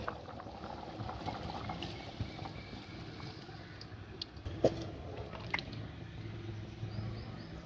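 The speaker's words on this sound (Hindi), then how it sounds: "पानी देखें कि उबल गया है।" Quiet bubbling of water at a boil in a pot for cooking pulao rice, a soft continuous simmer with occasional small pops, heard close and without speech.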